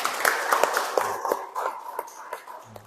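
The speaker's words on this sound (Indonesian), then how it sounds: "Tepuk tangan." Brief scattered applause from an audience at a teacher-training performance exam session, a few separate claps standing out over a room murmur and then thinning out as a voice comes in near the end.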